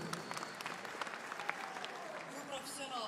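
Applause from an audience at a fight event as the referee is introduced, a dense wash of clapping with a murmuring crowd, steady and moderately distant, with a voice heard faintly over it.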